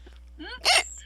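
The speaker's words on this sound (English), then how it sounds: "Oh, that was a hiccup" A single sharp hiccup pops out after a brief vocal sound, short and close.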